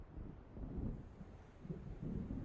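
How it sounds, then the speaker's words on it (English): Low, rolling rumble of thunder from an approaching storm in the video game Alan Wake Remastered, with steady wind and surf beneath, swelling and fading across the moment with no voices. "It seems there's a storm coming."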